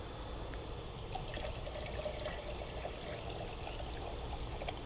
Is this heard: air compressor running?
no